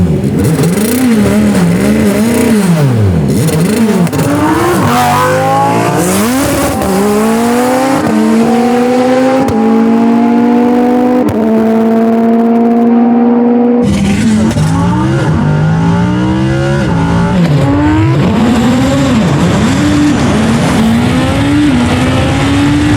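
A 2020 Lamborghini Huracán EVO and a 650HP K20-powered Wolf race car launching from a roll, engines screaming loudly up through repeated gear changes with rising and falling revs, very close and sustained, then another hard pull.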